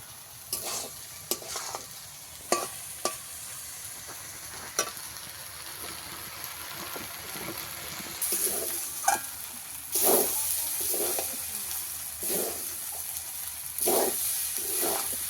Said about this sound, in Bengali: সব কিছু দিয়ে আমি ভালো করে একটু চালটাকে কষিয়ে নিয়েছি, ভাজা ভাজা করে নিয়েছি।